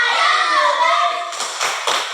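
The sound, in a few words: children doing a rhythmic spirit clap in class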